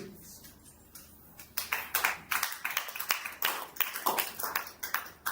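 A small audience claps in scattered, uneven bursts, fairly close and moderately loud, starting thin and growing denser, with no talk over it.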